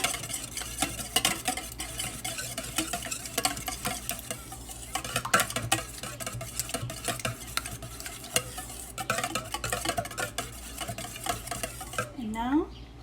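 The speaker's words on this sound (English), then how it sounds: "Make sure you mix it thoroughly" Brownie batter is stirred in a bowl, a run of soft, wet scraping and clinking strokes at close range, with a brief squeak near the end.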